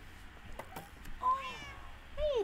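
A kitten meowing twice, short rising and falling mews close by, over faint background game sounds and light clicks.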